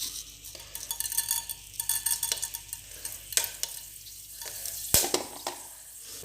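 Shallots crackle and sizzle as they fry in hot coconut oil in a pan, a steady close bubbling hiss broken by sharper spits and a few stirring scrapes, with no voices over it.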